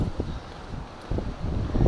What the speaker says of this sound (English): It is quite windy here though